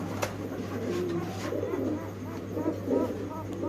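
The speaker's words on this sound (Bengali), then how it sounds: "নিজের কত সুন্দর কুরকুর কুরকুর করে ডাকবে" Spanish pigeons in a cage give soft, throaty rolling coos close by, a few repeated calls over a steady low hum, with faint voices in the background.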